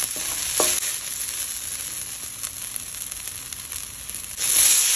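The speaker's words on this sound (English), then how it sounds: "In a wok, heat up some vegetable oil, add your garlic, shallot, and the white part only of your green onions." Garlic, shallot and green onion whites stir-fry in vegetable oil in a wok, a loud steady hiss and crackle with brief scraping knocks of a utensil, surging louder again near the end.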